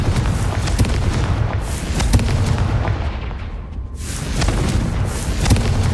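Fire spell explosions boom in rapid succession during play in Hogwarts Legacy, loud and dense, overlapping into a continuous roar with brief dips between bursts.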